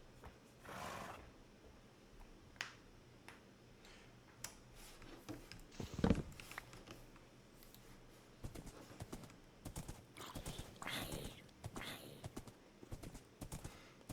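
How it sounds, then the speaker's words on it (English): Horse hooves clip-clop faintly in an irregular patter while riding in the video game Minecraft, with scattered clicks and thumps over a quiet background. "Alright, come on, horse."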